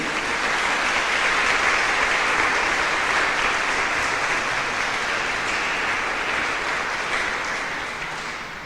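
Sustained applause from a church congregation during a prayer service, steady and dense for several seconds before gradually thinning toward the end.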